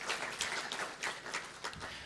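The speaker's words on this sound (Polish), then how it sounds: "Proszę o brawa." Scattered audience clapping at a Polish election debate, a few uneven bursts of hands in a room, fairly faint and thin.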